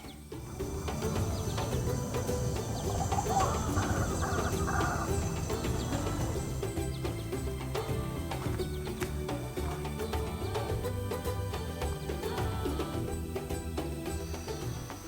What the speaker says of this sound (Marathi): या तलावाच्या काठावरती छान पक्ष्यांचा आवाज